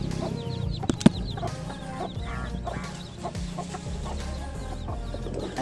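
A mother hen clucks softly and repeatedly nearby, with short chirping calls from other birds and some rustling in the background.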